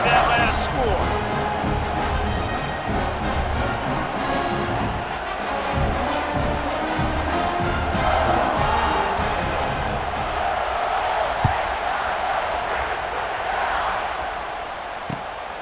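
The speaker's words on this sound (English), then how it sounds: "this crowd is buzzing after that last score" Stadium crowd in EA Sports College Football 26 after a score, a dense steady roar of cheering that fills the whole stretch without letting up, loud and continuous.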